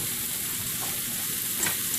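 Mushrooms with garlic pepper seasoning sauté in a pan, a steady, even sizzle close by with a few soft scrapes of stirring and no talk.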